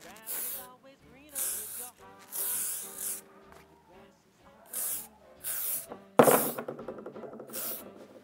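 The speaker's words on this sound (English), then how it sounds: "So I'm just gonna spray it with a good old Elnett." Elnett hairspray hisses onto set hair in several separate bursts of varying length, close to the mic and fairly loud, with a sharper clatter near the end.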